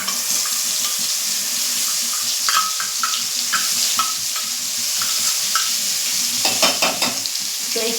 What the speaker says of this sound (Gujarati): હવે આપણે આ પેસ્ટ એડ કરીશું.